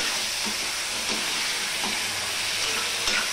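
Salted potatoes fry in a pan, giving a dense, steady sizzle with light stirring clicks scattered through it and no voices.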